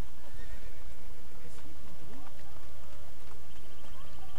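A horse in Assassin's Creed Brotherhood whinnies sharply while its hooves pound in a fast gallop, all under a dense, loud game soundscape.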